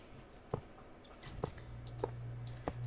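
Intermittent sharp clicks from a machine in the Minecraft SkyFactory 3 modpack, about four evenly spaced ticks over a low steady hum, no talking.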